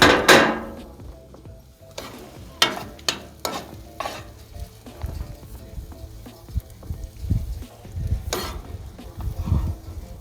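King prawns cook on a barbecue, cooked with butter, giving a soft frying sizzle broken by sharp clinks and scrapes of utensils turning the food. The taps come in irregular bursts, and no one speaks.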